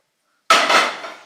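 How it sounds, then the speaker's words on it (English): Dishes being swapped over in a kitchen: one sharp clatter of crockery and cutlery after a brief silence, ringing and fading over the next moment. "if I just swap over my dishes just a minute"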